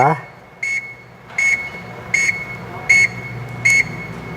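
Turn signal on a LION S7 electric tricycle beeps in a steady rhythm, five short evenly spaced tones about 0.75 seconds apart, heard close and clear over a quiet background.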